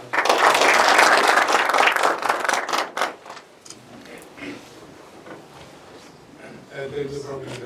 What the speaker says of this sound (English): President Tam, let's give him a round of applause